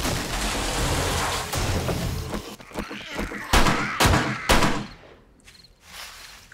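Gunshots in the 7 Days to Die video game, several loud sharp cracks fired in quick succession over a dense rushing background, followed by quieter scuffling and a fading tail.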